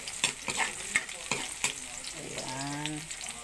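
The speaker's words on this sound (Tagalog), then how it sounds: "ginisa ko na nga yung bawang" Garlic sautés in a pan for a macaroni dish, with a close sizzle under rhythmic clanks of a utensil stirring against the metal, and a brief tonal squeak near the end.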